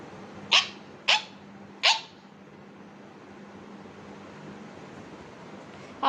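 A dog gives three sharp, close barks in quick succession, then falls quiet over a faint low hum for the rest of the stretch, with one more bark starting right at the end.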